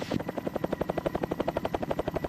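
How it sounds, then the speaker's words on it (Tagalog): Helicopter rotor blades chopping in a fast, steady rhythmic thump, fairly close and constant. "Malakas ang hangin galing sa helicopter!"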